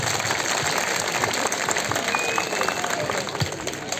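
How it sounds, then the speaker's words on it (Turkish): An audience applauds at a concert held by a disabled people's association in Erbaa, a dense, even wash of clapping that holds steady without any talking over it. "Bir alkış istiyorum bütün kardeşlerimize."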